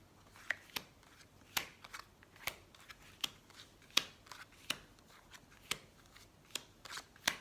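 Tarot cards are shuffled and laid out for a nine-card reading, making a series of sharp, quiet card snaps and flicks at an uneven rhythm, each one close and brief.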